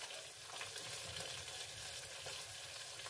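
Fish frying in a pan at a home stove, a steady dense sizzle with crackling spatter that holds evenly throughout, close and fairly loud, with no talking.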